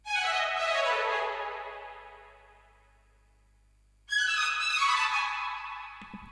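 Catchy string melody roll from an FL Studio beat built around wavy brass-style samples, a bright sustained harmonic line that swells, fades out, then re-enters strongly after a pause, with no talking.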